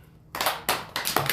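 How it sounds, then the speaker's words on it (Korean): Sharp hand claps from listeners at a Buddhist doctrine lecture, several separate bursts spaced roughly a third of a second apart, close and fairly loud against a quiet room. "박수 한번 쳐보세요."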